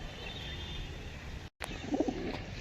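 Pigeons in a loft give a soft, low coo after a brief gap, faint against quiet background noise.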